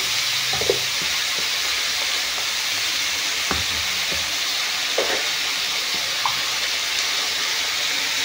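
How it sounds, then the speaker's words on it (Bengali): Cumin and ginger paste frying in a pan for a cabbage dish, a steady soft sizzle with a few light scraping and stirring clicks scattered through, close by and without any voices. "এটা আমি ভেজে দেবো, হালকা করে একটু কষিয়ে নিচ্ছি।"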